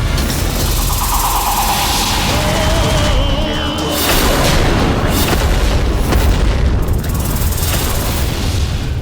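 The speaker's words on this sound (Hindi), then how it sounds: "ऐसा विनाशक विस्फोट इन देवियों को हताश करेगा।" A heavy destructive blast in a mythological battle scene, with booming crashes and dense rumbling debris filling the whole stretch, loud and continuous.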